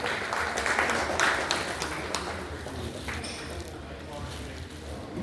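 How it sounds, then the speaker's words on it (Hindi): Audience applause welcoming an honoured guest at a provincial convention in SIDCUL Haridwar, a steady wash of clapping lasting throughout with a low hum and some background voices underneath. "श्रीमान श्रद्धेय राजेश टंडन जी का जोरदार तालियों से स्वागत कीजिए"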